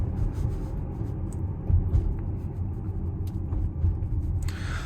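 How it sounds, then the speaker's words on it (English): A 2017 Tesla Model X 90D electric car driving, with a steady low road rumble and tyre noise heard from inside the cabin, fairly quiet and continuous. "I just want to take you on this quick little drive of this Model X from 2017"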